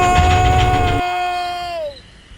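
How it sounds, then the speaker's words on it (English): A high, piercing shriek from a frightened engine character inside a metal factory, held steady for about two seconds before sliding down in pitch and fading, heard alone. "Duck shrieked"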